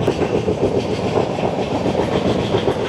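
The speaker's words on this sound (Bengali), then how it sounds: "চলে আসছে ট্রেন নাম্বার 22-847 বিশাখাপত্তনম থেকে মুম্বাই এলটিডি" Train 22847 from Visakhapatnam to Mumbai LTT rumbles past close by, its steady loud roar and rolling wheel noise continuous throughout with no voices.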